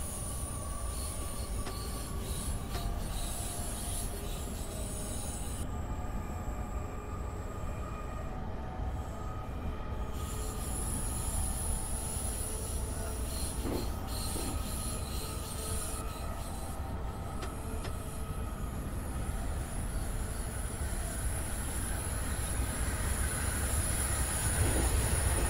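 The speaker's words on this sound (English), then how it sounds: "Oh, there is another train passing me down there." A commuter train on the Tokyo Keihin-Tohoku and Utsunomiya lines in the video game Train Sim Classic rolls past with a steady, loud rumble and a thin wheel squeal, continuing unbroken with no voices.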